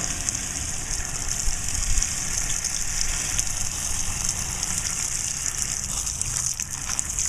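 Water runs steadily into a bucket to soak smoking wood chips for a turkey smoker, a continuous gushing pour with a low rumble in the background, no talking.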